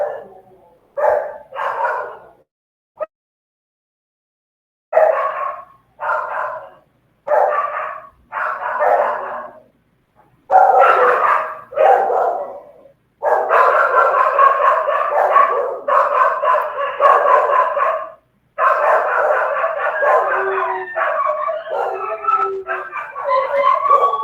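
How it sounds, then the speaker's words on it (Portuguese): The neighbour's dogs bark loudly and insistently, several of them overlapping, starting with short separate yaps and building into continuous barking and howling with no pauses. "você tá escutando os cachorrados? Não é meu, não. Da vizinha."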